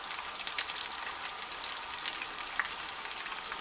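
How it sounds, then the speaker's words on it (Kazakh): A breaded chicken fillet roll fries in a pan with a dense, continuous sizzle and fine popping crackles, close and even throughout, with no voices. "өстіп, екі жағынан қуырып алу керек"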